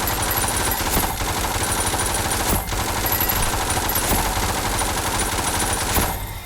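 An overpowered gun in Ragdoll Universe fires a continuous, loud stream of rapid automatic shots with a few sharper cracks punctuating the barrage throughout.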